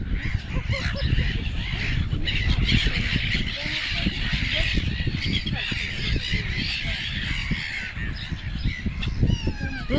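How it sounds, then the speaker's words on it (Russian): A noisy crowd of swans and geese at a pond along the Kengarags promenade keeps up a dense, continuous chorus of honks and harsh calls. The birds are close and loud, and voices mix faintly into the din. "Вот такой птичий базар."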